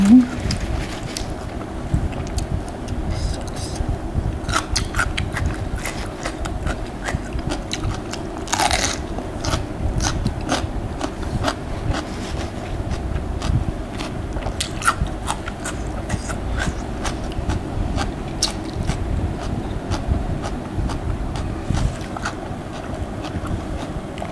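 Crunchy, sweet pickled shallots are bitten and chewed close up in outdoor wind, with repeated crisp crunches and steady chewing over a constant rough background, and a voice speaks now and then.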